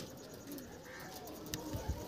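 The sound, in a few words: pigeons cooing in a loft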